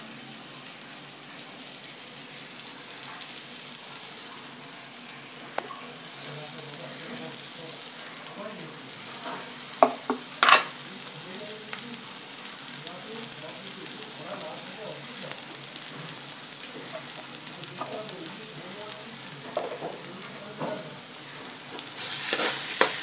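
A spatula stirs salted potato filling for aloo paratha as it sizzles in a pan over a gas flame, with a continuous soft frying hiss broken by occasional sharp scrapes and clinks of the utensil.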